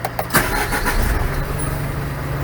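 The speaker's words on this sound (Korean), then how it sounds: "어우 시동 소리가 깔끔하네요" A Hyundai Mighty 3.5-ton wide-body truck engine cranks briefly and catches, settling into a steady low idle, close and fairly loud.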